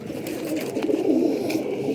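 Pigeons of an old breed coo softly and steadily at close range for a brief moment, with no speech.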